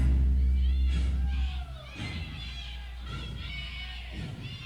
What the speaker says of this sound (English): Listen to the crowd screaming.